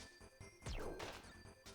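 A single sharp crash of ice shattering as a sound effect, a sudden bright burst with a falling crackle that fades within a second over a quiet background.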